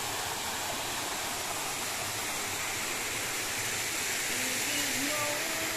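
Running water of a stream or waterfall on a farm lot, a continuous loud broadband rush with a faint voice beneath it.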